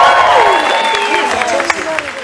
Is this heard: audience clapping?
yes